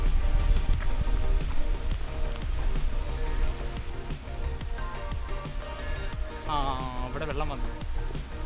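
Monsoon rain patters steadily at Green Valley Park in Belapur. People talk underneath, and there are scattered clicks and other movement sounds.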